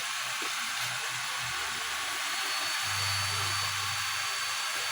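A blower fanning a charcoal cooking fire, a steady, loud, broadband rushing roar with a low motor hum underneath, running continuously.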